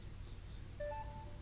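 Samsung Galaxy Watch beep notification tone, a soft, brief chime of a few layered electronic notes that ring out and fade, quiet against a low background hum.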